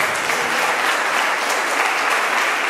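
Church congregation applauding during a Portuguese-language sermon at a Fogueira Santa de Elias campaign service, a dense, steady wash of many hands clapping throughout, loud and sustained with no voices standing out.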